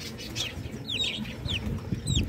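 Red bantam chickens cluck steadily nearby, with several short rising calls over a low background rumble.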